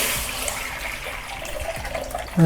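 Tamarind water trickles and splashes steadily through a strainer, a thin continuous stream of liquid falling, ending with a brief clatter.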